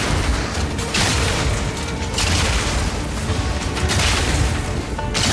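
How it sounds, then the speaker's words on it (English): Rocket blasts from a Mercenary's rocket launcher in Path of Exile 2 set off secondary overkill explosions, a loud, dense, unbroken stream of booms and crashes clearing packs of enemies. "it causes a bunch of secondary explosions that helps"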